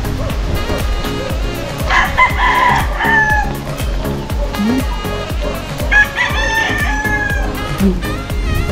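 Chickens around an old house: a rooster crows twice in drawn-out calls over steady clucking and other fowl noise, fairly close, with a dog-like bark and faint voices.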